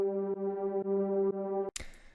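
Serum synthesizer patch with two unison oscillators, one pitched up an octave, run through a filter, delay and reverb: a sustained bright chord pulsing in steady rhythmic gates for under two seconds, then cutting to a noisy reverb tail.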